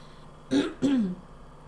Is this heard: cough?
yes